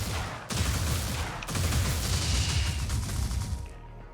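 Rapid chain of crackling, crashing spell hits from a Wizard of Legend melee combo mixing spark contact, fading pedal and tracer barrage, dense and loud, with two sharp bursts early on before cutting off near the end.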